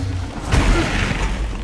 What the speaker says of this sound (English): boom, explosion of rock.